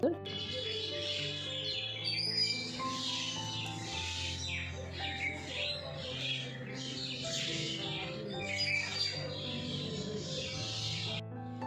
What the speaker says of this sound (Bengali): তার আগে তোমরা পাখির কলরবগুলো শোনো, কত সুন্দর।